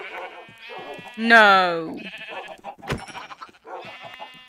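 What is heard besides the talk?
pink sheep bleating in a video game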